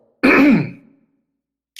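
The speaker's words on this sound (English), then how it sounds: "sorry, I have to clear my throat." A single throat clear from one person, a short loud rasping burst that fades over about half a second, followed by near silence.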